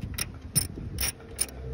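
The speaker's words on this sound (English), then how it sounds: "now you're gonna grab your 10 millimeter and we're gonna torque it down" A ratchet with a 10 mm socket tightening a bolt on a C5 Corvette door ground, heard as four short bursts of rapid clicking spaced about half a second apart, close and clear.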